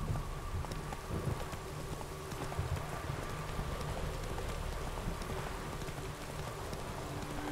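Horse hooves clip-clopping at a steady trot in The Witcher 3: Wild Hunt, continuous and moderately loud over a dense rain-like background hiss.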